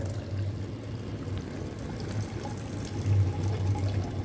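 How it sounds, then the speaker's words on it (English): Liquid is decanted from a beaker into another glass beaker, pouring steadily in a continuous low gurgling stream, close by, with no talking. "Now decant the liquid in this way in another beaker"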